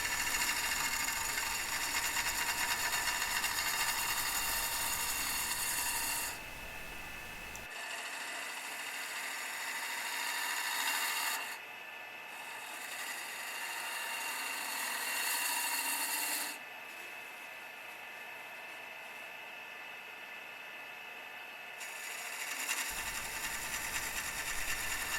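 A wood lathe hollows out the chuck hole in the center of a turned piece, with a continuous scraping, rasping cut over the motor's hum, broken into long passes with quieter pauses between them.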